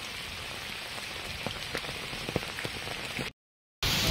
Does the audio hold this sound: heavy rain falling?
yes